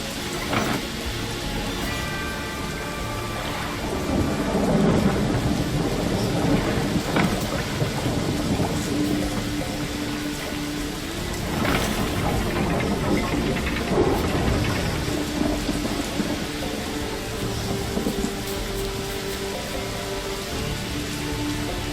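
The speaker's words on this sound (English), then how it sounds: "A storm, damn it." A thunderstorm in The Witcher 3: The Wild Hunt, with heavy rain pouring steadily on surfaces and several rolling thunder swells, loud and continuous, with no talking.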